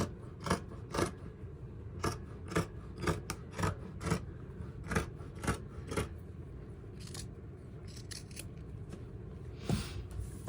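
Scissors snip through fabric from a thrifted shirt in a quick series of crisp, close cuts, roughly a dozen in a steady rhythm with short gaps, quiet overall and without speech.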